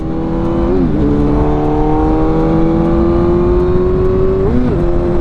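A BMW M1000R motorcycle accelerates hard, its loud, close engine climbing in pitch through the gears with two quick dips at the shifts and wind noise underneath.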